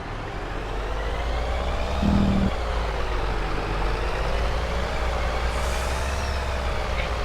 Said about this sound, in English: And this is our new dump truck.